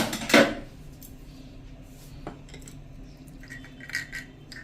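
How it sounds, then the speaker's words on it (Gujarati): Smoking charcoal is lifted out of a pot of chili buttermilk with one sharp metallic clatter up front, followed by a few faint clinks and quiet handling. "તો હવે આપણે કોલસાને બહાર લઈ લેશું."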